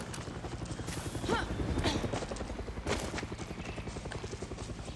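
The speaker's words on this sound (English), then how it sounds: "Oh great, helicopter's on the way." In the video game Far Cry 6, a helicopter's rotor beats in a rapid, steady pulse at moderate distance, running through the whole passage beneath game noise and occasional louder effects.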